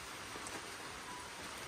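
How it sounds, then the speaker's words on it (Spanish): Light rain falling outdoors, a soft, steady hiss of drops with no clear individual impacts, faint and continuous throughout. "está lloviendo un poquito"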